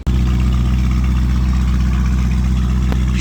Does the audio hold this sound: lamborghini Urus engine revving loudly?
yes